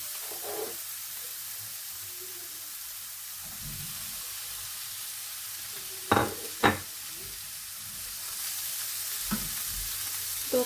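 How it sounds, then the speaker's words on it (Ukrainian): Mushrooms and hunting sausages frying together in a pan, a low steady sizzle with occasional sharp clinks and scrapes of stirring, quiet and close. "Грибочки наші ковбаски обсмажуються разом з грибочками"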